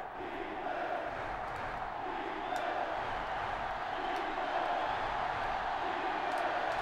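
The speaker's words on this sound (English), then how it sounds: "Crowd going crazy." Virtual stadium crowd in NCAA Football 06, a North Dakota State versus Tennessee Tech college football game, roaring and cheering in a steady, loud wash of noise that holds for several seconds without letting up.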